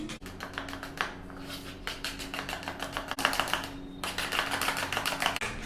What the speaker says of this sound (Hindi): इसमें 1 चम्मच कॉर्नफ्लोर ऐड कर रहे हैं और नमक। तो कुछ इसमें मिक्स कर लेंगे।